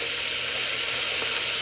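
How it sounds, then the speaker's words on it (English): Ground meat poured into a hot pan sizzles with a dense, steady, close hiss that holds evenly for a short moment, without speech. "I'm gonna pour our meat in. Listen to that sizzle"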